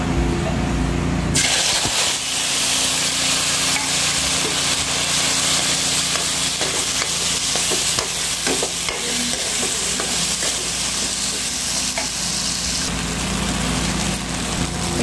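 Jakhya seeds from the village hit hot oil in a kadhai and fry with a loud, steady sizzle that starts abruptly and crackles on continuously, close up with no talking.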